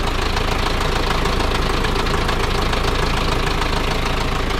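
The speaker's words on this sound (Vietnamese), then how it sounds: "máy nổ nó còn tròn tiếng lắm nha cả nhà, máy nổ rất là giòn nha và còn tròn tiếng lắm ha" A 2009 Dongfeng 5-ton truck's diesel engine idles loud and close, a continuous steady rattle with a rapid, even knocking beat and no voices over it.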